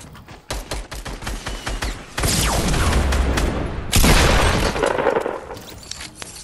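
Gunfire in a shooting video game: rapid bursts of shots, then heavy sustained firing with booms and explosions, loud and dense, with a brief quieter stretch near the end.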